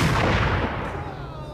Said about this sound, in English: I'm going to be using the sniper rifle for a while here